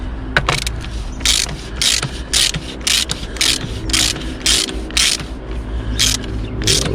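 Tightening the oil filter cap on a Jeep Wrangler 2.8 CRD by hand ratchet: a steady series of sharp metallic clicks in an even rhythm, close and loud over a low background rumble, no talk.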